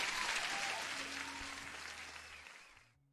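A canned applause sound effect plays during a live day-trading stream, a dense, even wash of clapping and light crowd noise that holds steady, then fades out at the end.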